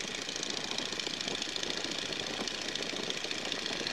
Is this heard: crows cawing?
no